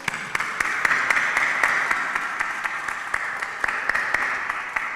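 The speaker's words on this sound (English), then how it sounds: "Graduates, please give them," A graduation audience at North Haven High School applauds the graduates' supporters, producing steady dense clapping with sharper individual claps standing out, fairly close and sustained throughout.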